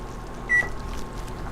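A single short electronic beep from a kitchen timer sounds once at close range, set against quiet kitchen room noise with no talk.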